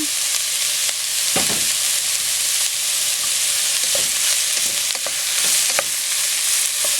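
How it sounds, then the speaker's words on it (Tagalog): Shiitake mushrooms sautéing in a pan for sotanghon soup, a loud even sizzle with occasional stirring knocks and scrapes, no voices. "Okay, gisahin po natin. Ilagay na rin po natin itong shiitake mushroom."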